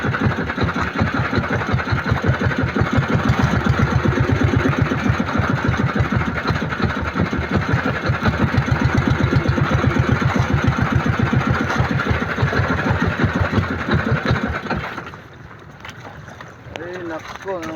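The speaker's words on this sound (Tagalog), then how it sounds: "Ay nako, ang makina natin." A boat engine chugs in a rapid, steady rhythm, loud and close, with voices talking over it before the motor cuts out near the end.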